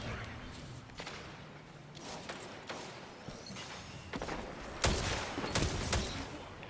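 Rapid gunfire bursts in a Destiny Trials match, several sharp volleys cracking over a busy game soundscape, with the loudest shots clustered near the end.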